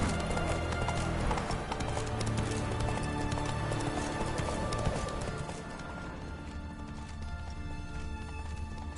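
Roach, a horse in The Witcher video game, gallops with a rapid, steady clip-clop of hooves, loud and close, amid dense game ambience that eases slightly toward the end.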